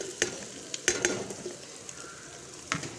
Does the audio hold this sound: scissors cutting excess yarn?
no